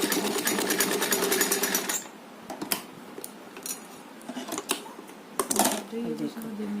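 A sewing machine stitches a ribbon dress for a small Laddu Gopal idol, first in a loud continuous run, then in short bursts with pauses and light mechanical clicks.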